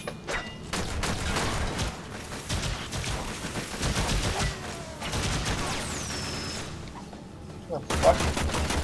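MK1-Braton rifle fire in Warframe, rapid bursts of automatic shots in several volleys with mechanical clicks between, moderately loud, with a voice talking over parts of it.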